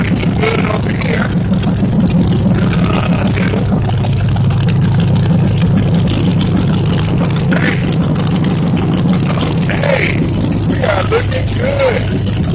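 A rebuilt 1999 Dodge Dakota R/T engine idles steadily with a low, even rumble throughout, close by, while someone talks over it.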